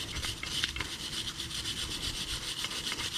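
Wire brush scrubbing surface rust from the front brake caliper hardware mounts of a Ford Fiesta, a steady, close, rasping back-and-forth stroke with no talking.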